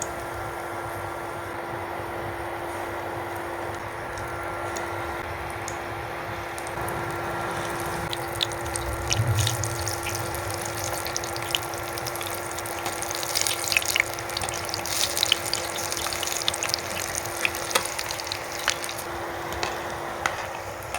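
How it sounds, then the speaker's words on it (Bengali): Cauliflower pieces coated in gram flour batter fry in oil in a kadai, giving a steady close bubbling sizzle that continues without a break and with no talking. "এবার এভাবে বাকি সব পকোড়াগুলো আমি ভেজে নেব"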